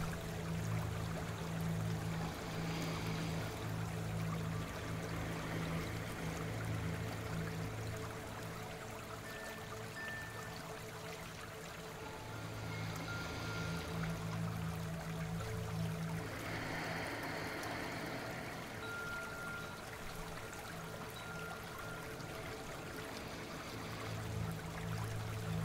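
A flowing river used as a sound effect in a children's bedtime audio drama, a soft continuous stream of running water with gentle swells, heard alone without voices for about twenty-five seconds.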